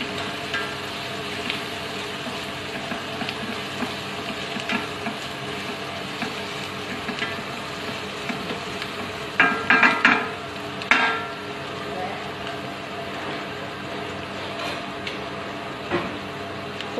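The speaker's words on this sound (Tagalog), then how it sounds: "halo-haluin lang siya hanggang sa mag-golden brown at lumabas din yung kanyang aroma." White onion frying in a pan while being stirred, a steady low sizzle with occasional scraping and clinking of the utensil against the pan, growing busier midway.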